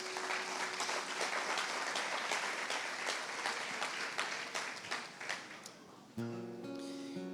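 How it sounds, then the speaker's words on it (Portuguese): A church congregation claps together for several seconds with a dense, steady roar of hands, then the applause breaks off abruptly and a sustained organ or keyboard chord rises alone. "Você pode aplaudir o Senhor mais uma vez?"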